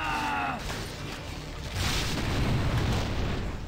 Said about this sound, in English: Potion of explosion. Throw it at the basilisk.